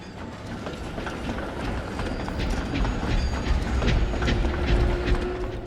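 An animated diesel locomotive pushing freight trucks labours, rumbling and clanking, with rattling, ratchety knocks over a low, strained drone that grows slightly louder.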